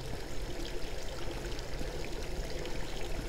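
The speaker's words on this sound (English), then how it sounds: "I forgot about the unnerving sound of water flowing that's only here" Steady rushing flow of water in the video game INFRA, a continuous close stream or pour with no talk, moderately quiet and unbroken throughout.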